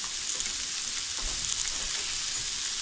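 A small onion frying in a very hot skillet for a cheeseburger macaroni dish, a steady, bright sizzle throughout with no voices.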